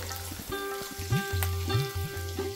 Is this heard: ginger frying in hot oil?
yes